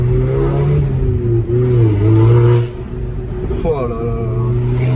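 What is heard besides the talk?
Audi TTS engine revving while accelerating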